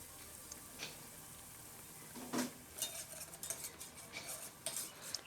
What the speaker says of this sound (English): So fry the onions until they turn golden brown.